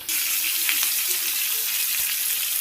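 Pieces of raw green mango frying in hot oil after a dried red chili tempering for chutney, a close, continuous bright sizzle with light stirring scrapes throughout.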